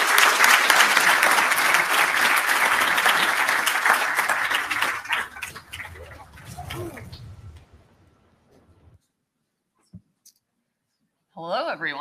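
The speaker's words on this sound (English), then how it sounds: "Give them a big round of applause." Audience applause at a conference talk on mixing AAA games, loud sustained clapping that fades out after several seconds, followed by near silence and a brief voice at the end.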